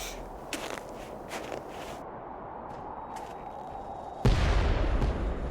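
An explosion in the Nancy Drew game White Wolf of Icicle Creek, a sudden heavy boom that cuts into quiet snowy footsteps and leaves a loud rumbling roar afterward.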